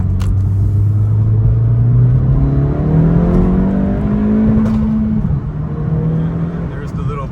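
A 2023 Acura Integra with an MBRP exhaust revving inside a tunnel, engine note rising steadily through the revs with a loud booming echo, then a few crackles as it drops back, with talking over it.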